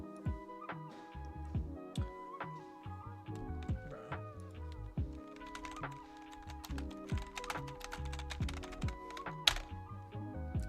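Steady, busy clatter of fingers typing on a computer keyboard at a live-streaming setup, close and continuous with uneven bursts of keystrokes and occasional heavier thunks.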